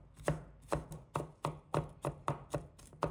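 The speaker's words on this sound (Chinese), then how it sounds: "接着切成蒜末" A knife mincing crushed garlic on a chopping board makes about nine crisp, evenly spaced chops, close and quiet, with no talking.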